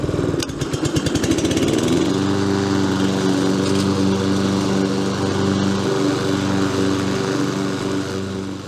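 A Hayter Harrier 56 Pro walk-behind lawn mower running at middle speed, a loud steady close petrol engine drone, a rattling start settling into an even hum, no talking.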